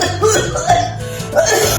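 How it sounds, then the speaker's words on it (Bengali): A woman coughs in several harsh bursts, close and loud, with brief pauses between them and no speech. "বলো কাশছেন কেন?"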